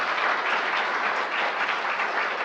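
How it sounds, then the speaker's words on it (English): Steady round of applause from a seated audience at a health talk on chronic kidney disease and living kidney donation, dense and even throughout without speech. "Let's give them a round of applause."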